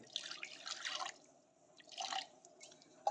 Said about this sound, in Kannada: ಒಂಚೂರು ನೀರು ಹಿಂಗೆ ಹಾಕ್ಕೊಳ್ಳಿ